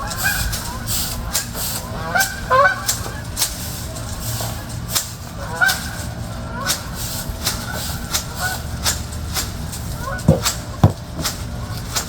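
Scattered honking calls from ducks flying high overhead, brief and somewhat distant, repeating irregularly over a steady outdoor background with some voices.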